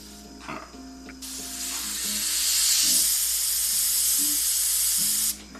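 An airbrush sprays paint at lowered air pressure, a smooth continuous hiss that starts abruptly after a second of quiet, holds for about four seconds, and cuts off sharply.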